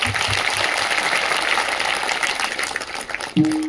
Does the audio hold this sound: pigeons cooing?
no